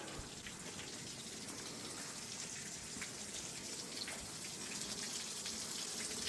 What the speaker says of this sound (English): So we do have the water going into the prop there.